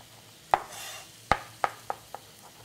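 A knife slicing spring vegetables into thin slivers on the bias for a stir fry, five crisp chops against a board, spaced irregularly and fading in strength, with no voices.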